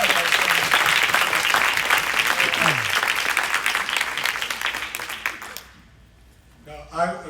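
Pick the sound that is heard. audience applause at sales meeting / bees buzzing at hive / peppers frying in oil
audience applause at sales meeting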